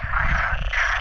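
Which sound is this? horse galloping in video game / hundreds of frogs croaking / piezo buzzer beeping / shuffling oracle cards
hundreds of frogs croaking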